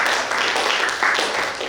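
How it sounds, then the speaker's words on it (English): A church audience claps steadily, a dense wash of applause rising slightly near the end. "round of applause for these guys."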